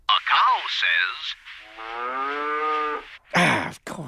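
A cartoon cow gives a long, drawn-out moo in the middle, framed by short animated vocal sounds before and a sharp burst after.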